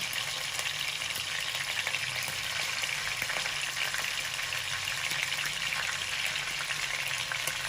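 Two-inch chicken cubes fry in half a cup of oil until golden, giving a steady, dense sizzle with faint stirring scrapes throughout and no voices.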